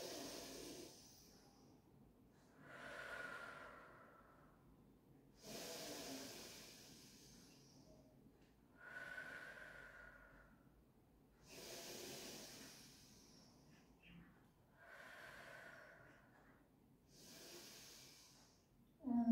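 Slow, soft breaths drawn in and let out during a gentle rehabilitation pilates exercise after breast cancer surgery, about six airy hissing cycles in an even rhythm, close and quiet with no talking.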